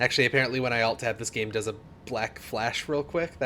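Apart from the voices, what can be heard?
No distinct noise like a dog, phone or traffic.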